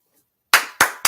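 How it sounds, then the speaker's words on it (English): Audience clapping for Atlanta Falcons players: after a half-second of silence, three loud, close bursts of applause start in quick succession, each decaying quickly. "I want you to clap with me."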